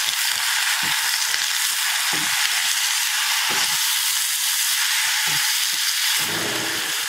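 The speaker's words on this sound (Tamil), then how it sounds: "இதை நல்லா வதக்கிக்கலாம்" Thuthuvalai leaves sautéing in a pan, heard as a loud, dense hiss of frying that holds steady and close for the whole stretch.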